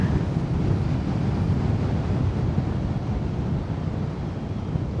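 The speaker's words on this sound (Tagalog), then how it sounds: "Lakas ng hangin." A strong wind roars steadily and loudly along Kennon Road on the way to Baguio, with a dense, continuous low rush that masks everything else.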